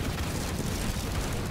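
Enemy structure blowing up in Halo Wars 2: a sustained, dense low rumble of explosion and debris that holds steady throughout at moderate level, with no distinct separate blasts.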